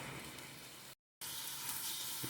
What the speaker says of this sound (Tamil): அடுத்த பக்கம் பெரட்டி போட்டு நான் அப்படியே ஃப்ரை பண்ணிக்கிட்டு இருக்கேன்